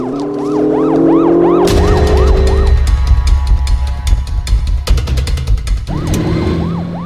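A police car siren wails in rapid repeating yelp cycles during a chase, loud and close, fading out briefly in the middle under a low rumble of engine and road noise before the rising and falling wail returns.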